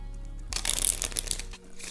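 A deck of playing cards is riffled and shuffled in a quick crisp burst of about one second, close up and alone, before fading to quiet.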